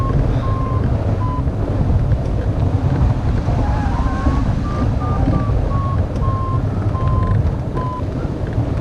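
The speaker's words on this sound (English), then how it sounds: "So there's some beeps on the vario," A string of short electronic variometer beeps rises and falls in pitch during a hang glider flight, half buried under a constant, heavy roar of wind buffeting the microphone.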